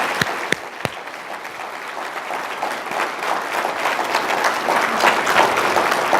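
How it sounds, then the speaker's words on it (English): A crowd at an awards ceremony applauds a Coast Guard color guard and chorus, starting with a few sharp, loud claps and swelling into broad, sustained clapping that grows steadily fuller toward the end. "Let's give the Coast Guard, Color Guard, and the chorus one more round of applause."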